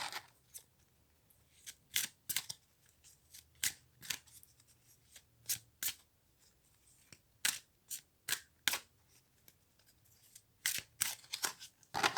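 A deck of tarot cards being cut and handled, with crisp, sharp snaps and riffling bursts arriving in irregular clusters, close and quiet, with no talking.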